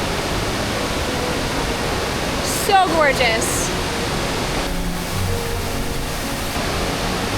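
Burgess Falls roars as a constant, loud wash of rushing water, with a person briefly speaking over it partway through.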